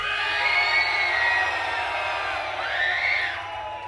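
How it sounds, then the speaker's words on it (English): A packed concert crowd at a metal show cheers, whoops and yells loudly and continuously, with a swell of shouting voices rising again near the end. "you guys are one of the loudest fucking crowds we've played to yet"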